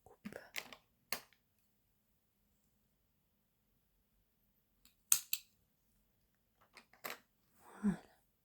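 Scissors snip cross-stitch embroidery thread in a quiet room, a few sharp isolated clicks and short cuts separated by silence, close and crisp.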